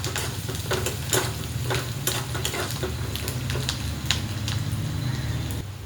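Crushed garlic and onion fry in a pan, a steady loud sizzle that runs throughout while a utensil scrapes and stirs in quick, irregular strokes over it.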